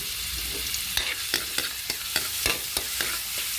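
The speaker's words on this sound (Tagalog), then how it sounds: "Maggisa ko muna yung bawang." Garlic sautés in oil in a home kitchen pan, a constant close hiss of frying punctuated by about a dozen quick spatula scrapes and taps at an uneven pace.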